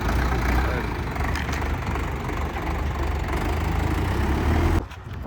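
A new Indofarm 3055 tractor engine idles steadily with a low, rumbling drone that stays constant, then cuts off abruptly near the end.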